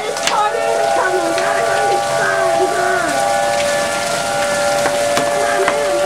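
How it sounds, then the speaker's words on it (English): Large hail pounds down during a storm with a tornado warning, a dense, steady, loud clatter across the whole stretch, with a faint steady tone droning underneath. "I haven't seen hail this big in a long time."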